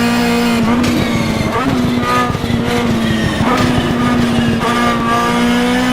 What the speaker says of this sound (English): Hear him pedaling the gas through the turn there, try to keep that car going as fast as you can